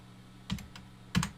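Computer keyboard keys tapped while entering dimensions into 3D modeling software: two short bursts of a few quick, close clicks, separated by a pause, over a quiet room hum.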